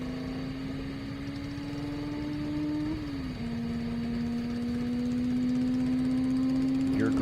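An H-blown fuel modified roadster racing on the El Mirage dry lake gives a steady, droning engine tone that rises slightly, holding loud and constant throughout.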